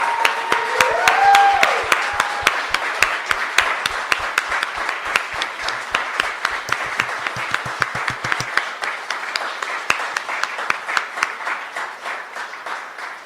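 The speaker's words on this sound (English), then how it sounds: "give them another massive round of applause" Audience at a live games talks event in Glasgow applauding the speakers, a long run of sharp, distinct claps with a crowd wash beneath, with a faint tone early on, gradually thinning over about thirteen seconds.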